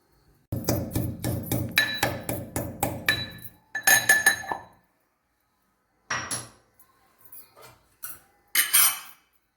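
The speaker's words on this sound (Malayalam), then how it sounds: "ഇത് ഇത്രയും ആദ്യം ഇടിച്ചെടുക്കാം. ഇതിനെ ഇടിച്ചെടുത്ത് വരാം." Curry leaves pounded in a mortar: a quick run of about a dozen sharp, evenly spaced strikes, then a short cluster of harder knocks and a few scattered taps after a pause, close and fairly loud with no talk.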